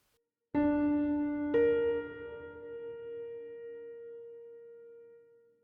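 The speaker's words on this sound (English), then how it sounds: "let's move on up to the minor sixth, which sounds like this" Two piano notes sound one after the other, the second entering a second later, forming a minor sixth that rings and slowly fades.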